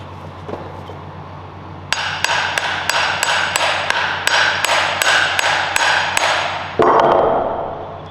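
A hammer taps a stuck part loose on a slab flattening jig, about a dozen evenly spaced, sharp ringing metallic strikes up close, ending with a heavier clunk.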